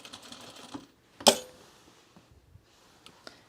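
A sewing machine stitches a sewn rug with a soft, rapid mechanical whir that stops, followed by one sharp clack and a few faint taps in a quiet room.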